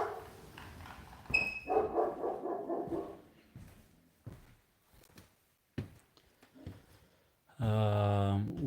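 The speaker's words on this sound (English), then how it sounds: "Well, you don't have to bark at night." A dog barks near the microphone, with a few sharp yelps early on and a loud, sustained bark-whine burst at the end. Quieter room sounds lie between the barks.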